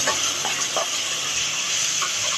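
A continuous oily sizzle and hiss of vegetables in hot tempering oil for jowar upma, with a few soft clinks and stirring taps scattered through it.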